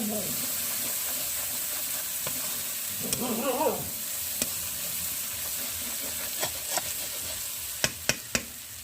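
Turmeric is stirred into a frying spice masala for chicken egg tadka, a soft steady sizzle in the pan with scattered scraping clicks of the spoon and a brief clattering flurry midway.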